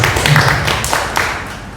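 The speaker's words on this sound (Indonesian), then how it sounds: "Tepuk tangan untuk Mas Bagus" A small group in an indoor talk-show setting claps briefly for a guest, a short, fairly loud patter of hands fading out over a couple of seconds.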